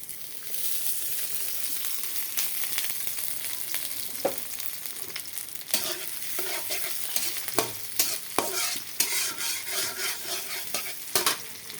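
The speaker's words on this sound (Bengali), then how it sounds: "এখন আমি কড়ার মধ্যে পেঁয়াজ দিয়ে দিয়েছি, তেল দিয়ে দিব।" Onions frying in mustard oil in a wok, a steady close sizzle with repeated sharp scrapes and taps of a spatula stirring against the pan, no voices.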